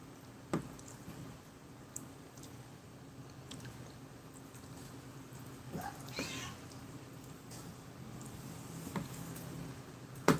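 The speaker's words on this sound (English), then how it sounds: "You might be hearing some meows from Pumpkin." A cat meows a few times at moderate distance over a quiet background, with scattered soft clicks and thumps around it.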